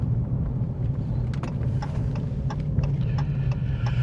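A 2019 Dodge Challenger Hellcat V8 idles or cruises with a steady low rumble from inside the cabin, faint regular ticks riding over the drone.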